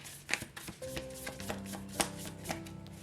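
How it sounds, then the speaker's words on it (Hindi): Tarot-style cards shuffled by hand before a pendulum astrology reading, a quick run of soft papery riffles and taps at close range, with faint tones humming underneath and no talking. "शफल कर लेते हैं"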